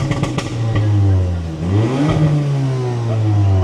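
A loud Audi S3 revs hard on a street in Paris, its engine note sweeping up and down through several throttle blips, with a crackling burst at the start.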